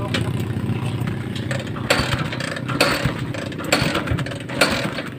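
A Suzuki GS Mola motorcycle engine running after a carburetor swap to a TMX 155 carb, a rough, loud steady idle with uneven pulsing and small rev blips, close by.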